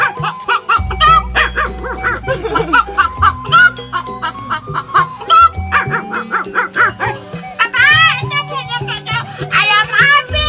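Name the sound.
man imitating chicken being chased by barking dog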